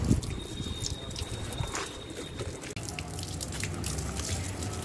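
Water poured over potted plants, a soft trickling and dripping running continuously at low volume, close by and with no voices.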